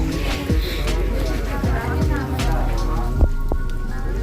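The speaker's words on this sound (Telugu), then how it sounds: "మళ్ళీ వర్షం స్టార్ట్ అయింది, బాగా వస్తుంది." Steady rain falling at Octopus view point in Srisailam, Nallamalla forest, a continuous hiss with a few louder drips and knocks near the listener.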